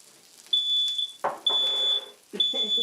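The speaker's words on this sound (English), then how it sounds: "They're done, the smoke alarm goes off." A smoke alarm shrills in repeated high beeps in a kitchen where turkey burgers are frying, with sizzling and clattering noises between and under the tones.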